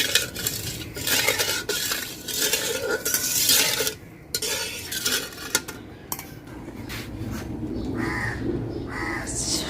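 A spoon stirs sugar and water into syrup in a metal wok, giving close, steady scraping and clinking strokes. Crows caw in the background, and no one speaks.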